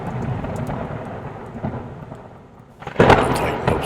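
Thunder rolls under steady rain, a low sustained rumble that dips, then breaks into a loud crack and crash near the end, with no voices.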